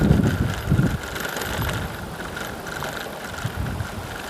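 Strong headwind buffets a cyclist riding into it, with low rumbling gusts hitting the microphone. The rumble is heaviest at the start, then settles into a steady roar with occasional stronger surges.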